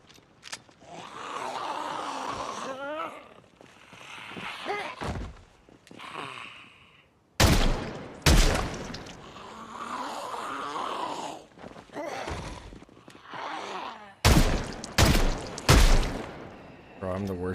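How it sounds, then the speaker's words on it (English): Loud, sharp gunshots in the video game Project Zomboid, a couple of quick shots and later a cluster of three or four, over constant zombie groans and someone talking. "Shoot her 4 times."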